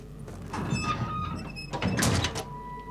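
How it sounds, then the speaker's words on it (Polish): Creaking in the video game Cryostasis, set on an atomic icebreaker in the Arctic: drawn-out squeaking and groaning sweeps that come in two swells over a steady ambient bed, with no talking. "O, ale tu skrzypia."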